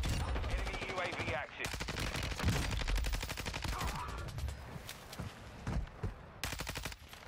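Lachmann 556 assault rifle fire in a video game match on Ashika Island, sustained rapid automatic bursts that are loud and close, broken by brief pauses, with game sounds around them.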